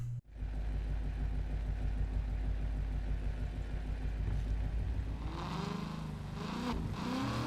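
A V12 Mustang muscle car engine in the video game Need for Speed Heat rumbles steadily with deep low-end throb, then revs up near the end; loud and close, no voices.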